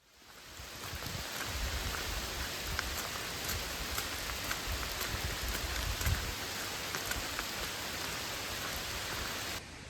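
Steady rain falls during a rainstorm on a hiking trail near Manchester Center, Vermont, a dense, even hiss with scattered heavier drops, continuous and fairly close.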